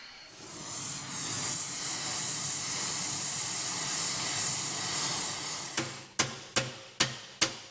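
A torch flame hisses loudly and steadily for several seconds, then stops, followed by five sharp metallic hammer strikes in an even rhythm, driving a roll pin out of an Allis Chalmers tractor.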